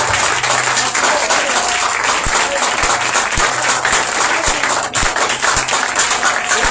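A church congregation at a Yom Kippur service claps and cheers loudly. The applause is dense and sustained, with sharp, regular beats running through it and voices rising in the crowd.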